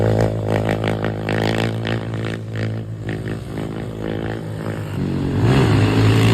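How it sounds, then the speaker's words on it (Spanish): A motorcycle being ridden and revved while warming up for wheelie and stunt practice, giving a loud continuous engine roar with rising and falling revs close by and a throttle surge near the end. "Le di la moto mía a un compa para que la probara."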